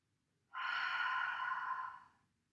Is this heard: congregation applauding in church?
no